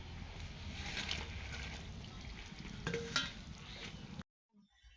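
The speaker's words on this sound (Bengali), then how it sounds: "মাছের ঝোল ফুটতে শুরু করে দিয়েছে" Pigeon fish curry bubbles and simmers in a pan, a steady close sizzle with a few louder pops near the end before it cuts off abruptly, with no talk.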